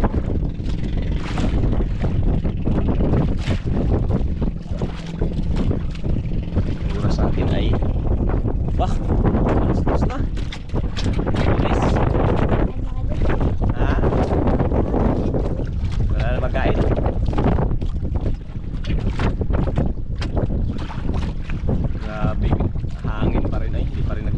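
Boat passing on open water, a steady loud engine drone mixed with heavy wind buffeting on the microphone throughout, with people talking over it.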